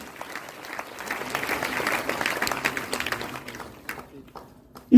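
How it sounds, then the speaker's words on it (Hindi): Applause from an audience at a DXN business gathering, moderate clapping that swells and then fades out, heard at some distance with a murmuring crowd underneath. "डॉक्टर लिम डीएक्शन डीएमआई मैनेजमेंट के लिए जोरदार तालियां होनी चाहिए।"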